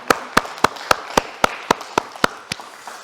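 A congregation at a Korean church's Sunday worship service in Berlin claps together in a steady rhythm, roughly ten evenly spaced sharp claps, close and clear, before stopping.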